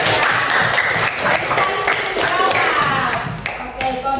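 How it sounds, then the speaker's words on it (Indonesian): A classroom group applauds, steady dense clapping near and loud for several seconds, with faint voices mixed underneath. "Tepuk tangan buat Olivia."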